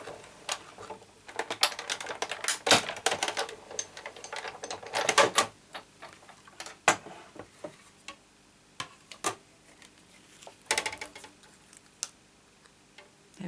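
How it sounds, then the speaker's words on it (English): Big Shot die-cutting machine cranking dies through card, a run of sharp, irregular clicks and ticks from the hand-turned rollers at close range, loud bursts scattered over a quiet background. "I just really like the way the dies cut, and seeing as how I'm using my big shot anyway,"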